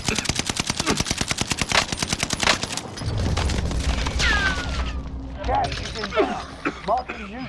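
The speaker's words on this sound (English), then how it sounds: "Precision airstrike missed" Heavy automatic gunfire in the Warzone Caldera game gives way to booming precision airstrike explosions, a loud rapid burst followed by a rumbling blast and scattered debris, with voices heard over the action.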